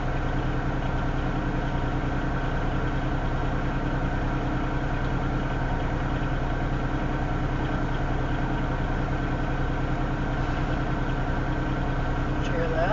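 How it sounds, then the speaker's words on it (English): A Norfolk Southern locomotive at the head of a Union Pacific stack train stopped south of Elkhart, Iowa, idles up while standing still, a steady loud engine drone with a constant low hum throughout. "For some reason, this is idling up while the train is sitting here."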